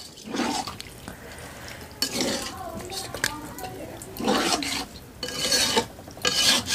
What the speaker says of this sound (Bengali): দিয়ে এখন ভালো করে নেড়েচেড়ে বুটের ডাল এবং গোস্ত একসাথে মিক্সড করে নেব।